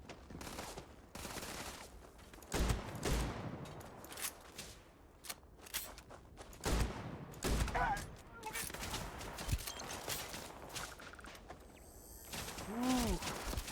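Shotgun blasts go off in a bounty hunter video game, a handful of sharp, separated shots spread across the stretch amid other battle noise, with a person talking at points.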